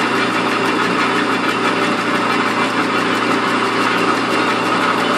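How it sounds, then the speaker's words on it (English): A worn-out belt sander being used to shape a crook or spoon knife made from a reciprocating saw blade, running as a steady, loud mechanical drone with rattling vibration throughout and no talking. "I know this sander's a piece of crap"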